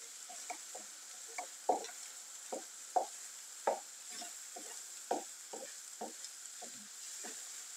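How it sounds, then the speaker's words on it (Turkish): Eggs frying in a pan are stirred with about a dozen quiet, irregular scraping strokes over a soft sizzle, close up, with no talking. "Sürekli karıştırarak yumurtasını iyice sert bir şekilde hem pişirip hem de her yerine geçmesini sağlayacağız."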